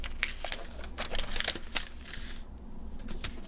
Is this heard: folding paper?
yes